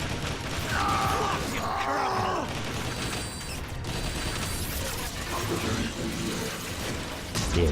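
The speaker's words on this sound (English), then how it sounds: "Better swap to the other gun." Weapon swap in Transformers: War for Cybertron: clanking, ratcheting mechanical gear sounds and metallic clicks over busy game noise, with a few short tonal whirs as the gun changes.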